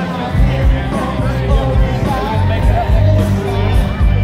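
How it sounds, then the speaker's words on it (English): A friendly crowd at an outdoor gathering, a loud mix of overlapping voices, shouts and cheers close by, with people talking throughout. "this is a good crowd, a friendly crowd"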